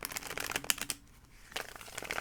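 Tarot cards being shuffled by hand: quiet, close riffling and crisp flicks in two short bursts separated by a brief pause.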